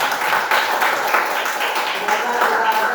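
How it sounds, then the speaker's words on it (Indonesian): Students in a classroom applaud together, a dense, steady patter of many clapping hands that carries on evenly throughout at moderate loudness, with no clear speech over it. "Tepuk tangan yang luar biasa."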